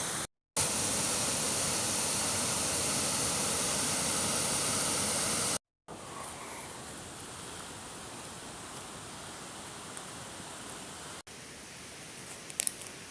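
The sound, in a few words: rushing water at a nature reserve stream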